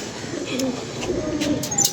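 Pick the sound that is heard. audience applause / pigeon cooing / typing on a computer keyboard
pigeon cooing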